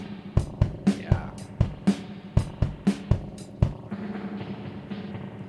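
Drum hits sent through a spring reverb unit come as a steady series of sharp, loud strikes, each followed by a short metallic splash of reverb, ending in a lingering wash of spring tail.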